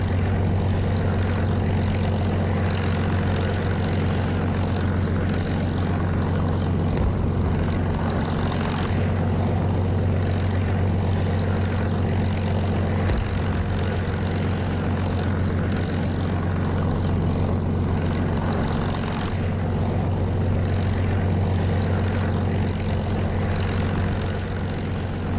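A propeller aircraft taxies in the DCS flight simulator with its engine running, giving a loud, constant, low droning hum that barely changes across the whole stretch, no talk.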